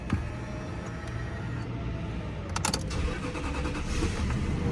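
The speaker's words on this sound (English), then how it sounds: "this is pretty cool when you fire it up" A Toyota Crown Royal Saloon engine starting, with a brief starter crank that catches and settles into a steady smooth idle, close-up and continuous without any talking.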